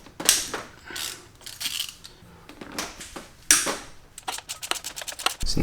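A ratchet wrench clicks steadily while loosening a 12 mm timing belt tensioner bolt on a Mazda Miata, with close, crisp bursts of rapid pawl clicks separated by short pauses.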